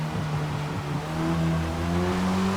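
An Audi RS3 engine in a racing video game at a soaking-wet Road America, droning steadily with rising pitch as the car accelerates, heard alone and fairly loud.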